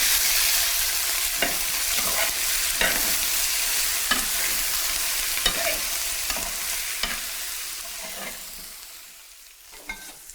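A sauce with red wine sizzles in a pan while being stirred, steady frying hiss with regular scraping strokes of the utensil, close and alone.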